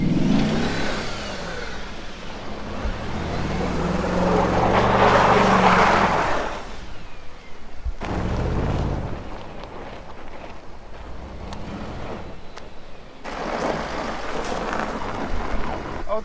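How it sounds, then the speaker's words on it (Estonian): An Audi S4 engine revs up and down several times, loud and close, with rising surges and a throaty idle between bursts. "Auto töötab."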